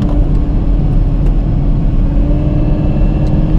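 A 1,000 hp Hennessey Exorcist Camaro ZL1 coasting through a corner off the throttle, heard from inside as a loud, steady low engine and road rumble with no revving.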